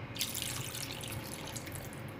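Water pours into a pot of spinach and tomato pasta on the stove, a steady close rushing splash with no speech.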